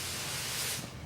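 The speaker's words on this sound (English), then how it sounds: "just spray the cleaner on the filter, soak it in real good" Cleaner sprayed onto a motorcycle air filter, a steady close hiss lasting about a second and easing off at the end, with no talking.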